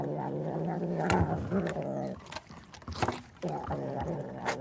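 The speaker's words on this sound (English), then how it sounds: "it's the sound of a purring cat" A cat purrs close up, a loud steady rumbling with a regular rhythm that breaks off briefly mid-way and then resumes.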